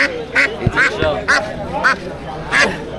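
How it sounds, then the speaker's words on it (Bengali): Several ducks quack and honk in short repeated bursts, loud and close, at a wholesale duck and chicken market, with people talking in the background. "তিনটা হাঁস"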